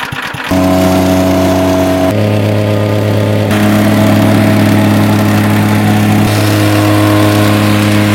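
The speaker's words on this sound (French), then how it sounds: "Répands le gravillon en plusieurs couches tout en le compactant toujours de nouveau avec le vibreur." Plate compactor vibrating on gravel spread in layers for a wooden terrace base, a loud, steady engine drone with a strong low hum that starts abruptly after half a second and runs continuously with slight shifts in tone.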